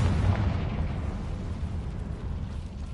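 A loud, dense explosive burst from a Confringo spell in a video game, a rumbling blast that swells at the start and rolls on steadily as a broad roar with no talking over it.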